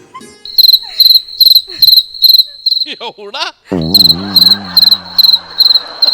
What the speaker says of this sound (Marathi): तुला रातकिड्याचा आवाज आला.